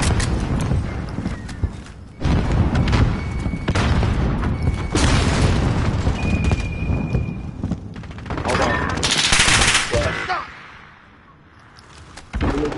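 Frag grenade blasts and rapid gunfire in a Search and Destroy video game match, dense and loud throughout, with sharp bursts, a brief lull near the end and game voice lines mixed in.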